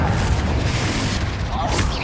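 A Confringo blasting spell explodes in the Hogwarts Legacy video game with a deep, sustained booming rumble amid loud combat noise, while voices speak over it.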